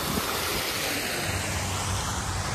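Fountains splashing in the Rose Garden in Chandigarh, a steady broadband rush of falling water heard up close and fairly loud throughout, with no talk over it.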